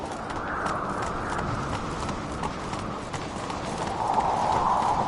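A horse in The Witcher 3 video game galloping at a steady pace, with continuous clip-clop hoofbeats close by and a rumbling, even rhythm that grows slightly louder near the end.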